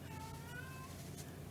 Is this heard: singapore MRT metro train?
no